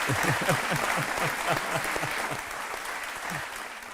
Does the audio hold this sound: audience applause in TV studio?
yes